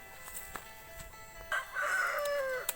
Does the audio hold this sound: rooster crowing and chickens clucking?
yes